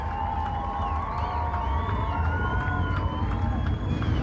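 Excited crowd cheering in the grandstands after a limited late model feature race, a dense continuous roar with whistles and shouts layered over low rumble, steady and loud throughout.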